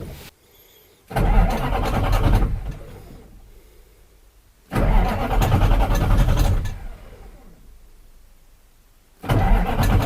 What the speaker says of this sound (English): just want it to turn the engine around, so it would spread the oil throughout the engine without it running